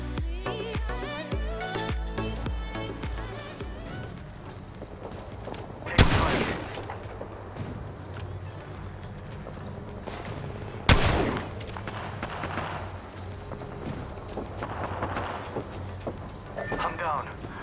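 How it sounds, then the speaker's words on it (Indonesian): Gunfire rattles through an Apex Legends match, rapid bursts of automatic weapons with two sharp, loud blasts standing out, layered over in-game effects and a voice talking through it. "shooting atau tembak-tembakan. Makanya game Apex Legends ini"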